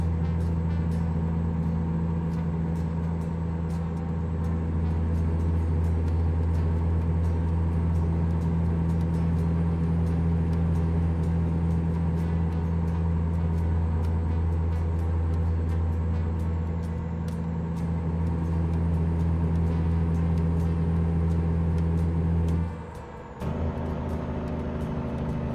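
A heavy-duty Caterpillar 3406 truck engine idles steadily in a video game, a deep constant rumbling drone with a faint high whine above it, loud and unbroken, briefly dipping near the end.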